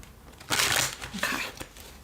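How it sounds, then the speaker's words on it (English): Tarot cards shuffled by hand in two quick riffling bursts, close and fairly quiet, with a soft papery crinkle and no talking. "Just give these bad boys a quick shuffle."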